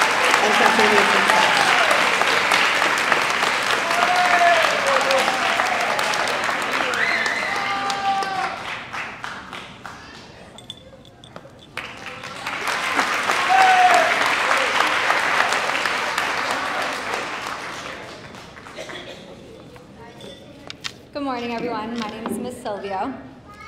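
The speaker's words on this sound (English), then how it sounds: "let's take a moment to applaud Luis Alsina for outstanding contributions and contributions" Audience at a school final assembly applauds in two long waves of dense clapping for an award recipient, with crowd chatter and voices mixed in, then a quieter stretch where a voice speaks near the end.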